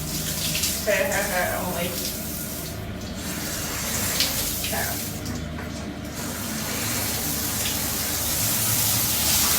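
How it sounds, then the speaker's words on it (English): Shower water running indoors, a steady hiss of spray with faint splashing, while a person speaks a few brief words over it. "I'm taking a shower."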